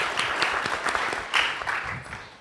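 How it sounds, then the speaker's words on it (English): Audience at a Washington DC planning and learning event clapping for a panel: a moderately quiet, continuous patter of many hands that swells briefly midway, with no speech. "Please give them a hand clap to warm them up."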